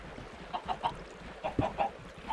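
Chickens in the Minecraft video game make short clucking calls in quick groups of three or four, fairly faint, with a low background hum and no voices.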